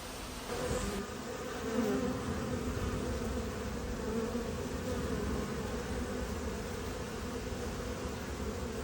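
Honeybees buzzing around their hives in a sunny apiary after days of rain, a steady, dense, droning hum with many insects overlapping and no voices.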